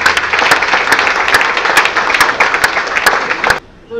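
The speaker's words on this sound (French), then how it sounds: "Sur vos applaudissements, s'il vous plaît, mesdames et messieurs." Dense audience applause at the opening evening of the Salon Athéna 2017, greeting an illustration prize presentation. Loud, continuous clapping fills the room, then cuts off abruptly near the end, leaving a brief quiet.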